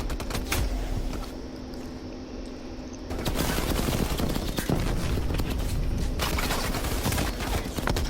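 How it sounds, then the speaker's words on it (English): Shotgun hip fire in Call of Duty: rapid, sharp blasts in quick succession, loud and close, with the firing growing denser and louder midway amid mechanical clatter. "look at that shotgun hip fire"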